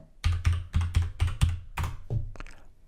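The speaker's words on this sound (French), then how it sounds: "Et si je tape le bon mot de passe" A password is typed on a computer keyboard, about nine distinct close key clacks in an irregular quick rhythm, each a crisp tap with a dull thud, in quiet surroundings.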